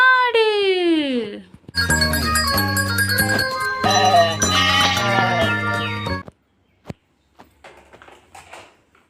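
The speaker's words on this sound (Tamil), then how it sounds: "ஆடு." A toy goat gives a loud, electronic bleating call with a rising then falling cry, followed by a few short clicks and faint handling noises.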